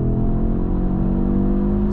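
An Audi in performance mode pulls hard inside a tunnel, its engine a loud, close, sustained rumble for a brief moment.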